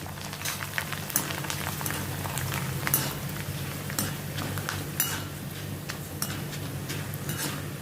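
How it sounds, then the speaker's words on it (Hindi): Poha and cornflakes frying in hot oil for murmura chivda, a steady dense crackling sizzle with scattered sharper pops, close and continuous without talk. "इसमें मैं थोड़े अभी ये पोहे कॉर्नफ्लेक्स में फ्राई कर लेती हूँ।"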